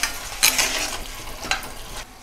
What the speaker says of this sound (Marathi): तर मसालो छान परतलाय मी तेलात